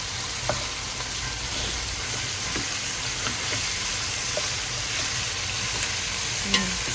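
Duck meat sizzles and spatters steadily in its own rendered fat in a pot, with occasional faint clinks of stirring; constant and close.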